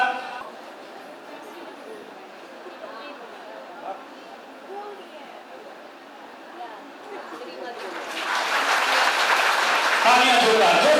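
Applause at a Dr. Bhimrao Ambedkar Jayanti celebration: someone speaks over a murmuring crowd, then hand clapping swells loud and dense across the last few seconds.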